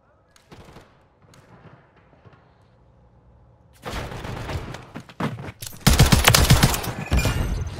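Gunfire in the video game Call of Duty: a few quiet shots and clicks at first, then loud rapid bursts of automatic fire that grow denser and heavier toward the end.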